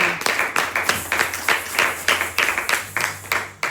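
A church congregation clapping in rhythm, a steady beat of roughly three claps per second, close and lively, with a faint sustained tone underneath.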